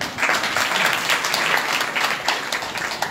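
Audience at a Bhagwat Saptah religious gathering in Baraut claps for itself in a temple hall, a dense, steady wash of hand claps lasting the whole stretch at even loudness with no talk over it.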